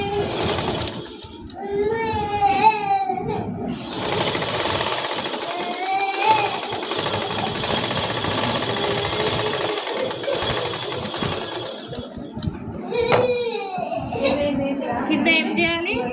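Sewing machine stitching the hem of a ghagra skirt, a steady mechanical whirr running nearly the whole time with a few brief pauses and some faint background chirps.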